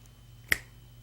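A single sharp finger snap during a rubber-band magic trick, crisp and close, surrounded by quiet room tone.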